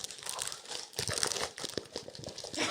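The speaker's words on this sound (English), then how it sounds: "get some of that wrapping paper crackling on the mic." Wrapping paper crackles and crinkles right up close to a microphone, a continuous rustling crunch with sharper bursts throughout, no voices.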